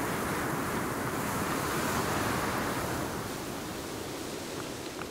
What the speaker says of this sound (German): Obwohl es hier übelst windig ist und laut ist